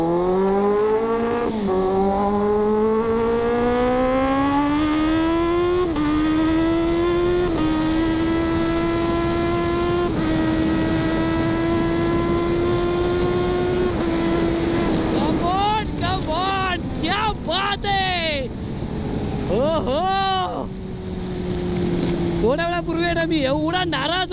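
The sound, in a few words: superbike engine revving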